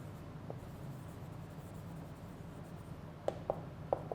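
Marker or chalk writing a statement on a board during a lecture, faint scratching with a few short distinct strokes near the end over a low background hum, no talking.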